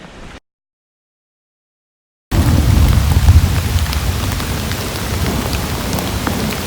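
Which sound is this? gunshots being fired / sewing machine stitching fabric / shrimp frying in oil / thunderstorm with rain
thunderstorm with rain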